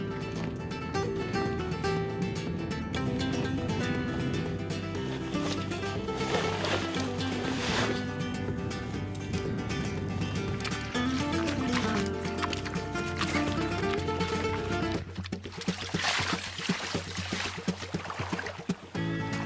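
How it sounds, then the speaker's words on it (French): Continuous sloshing and rushing water with hollow knocks as a small Flemish boat is pushed into the water, the splashing growing rougher near the end. "Mais d'abord, il faut mettre à l'eau le bateau flamand."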